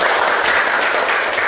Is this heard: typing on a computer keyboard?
no